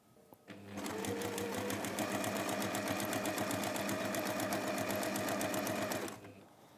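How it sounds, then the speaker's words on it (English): A sewing machine stitching two fabric layers together, starting up abruptly, then running in a fast even mechanical rattle for about five seconds before stopping, loud and close. "We just sew that then as we would have done the sashing strip before."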